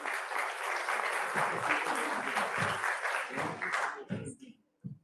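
A ceremony audience gives a round of applause, steady broadband clapping filling about four seconds before it thins out, with a few brief voice fragments near the end.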